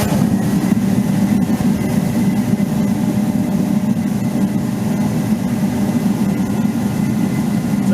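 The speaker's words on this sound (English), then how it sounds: "Now, the pump's tight in the housing, so it'll take a minute to free up, but it should light off." A rebuilt kerosene torpedo heater running with a steady, loud, low roaring drone of burner and fan that holds constant throughout, close and alone.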